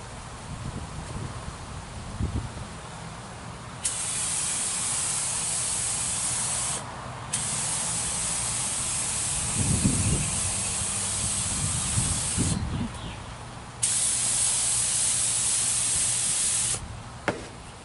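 A spray gun blasts paint onto a car fender in long, steady hissing passes of several seconds each, broken by short pauses, with faint shop rumble and knocks underneath.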